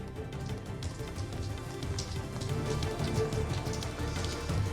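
Moderate morning rain falls steadily in Kozhikode, Kerala, a dense continuous patter on surfaces with low rumbling background, heard alone without voices.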